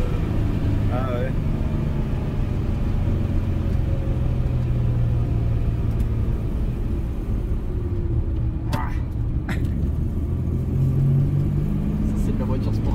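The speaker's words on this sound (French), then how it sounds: "ça c'est de la voiture sportive" A car engine rumbles steadily from inside the cabin while driving, with a low continuous drone and occasional swells of revving, and people talk over it.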